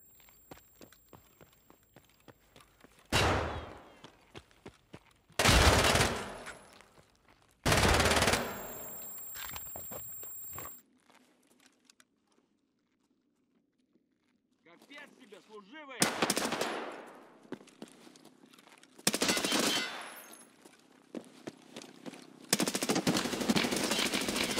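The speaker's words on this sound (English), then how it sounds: "I'm not even on a screen and he shoots me headshot." Gunfire in the video game Escape from Tarkov, loud bursts of automatic fire and single shots in several clusters separated by quieter stretches with footsteps and faint rumble.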